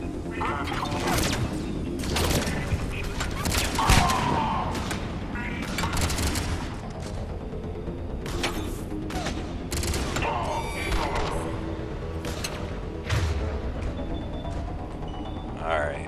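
Sniper and combat gunfire in the video game Mass Effect 3: repeated sharp, loud shots and impacts crack at irregular intervals through a battle, with a player talking over it.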